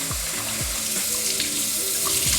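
Tap water running steadily while rice is washed in a home kitchen, a continuous close hiss with faint low thumps and clinks from handling the grains.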